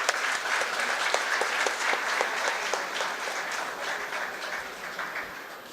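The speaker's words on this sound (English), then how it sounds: "A big round of applause for everyone." An audience at an academic conference ceremony gives a sustained round of applause, many hands clapping evenly for several seconds at moderate level and slowly tapering, with no talking over it.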